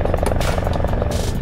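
A cartoon rescue helicopter from Robocar Poli comes in to land, its rotor a loud, close, continuous thudding whir that fills the short moment with little else audible.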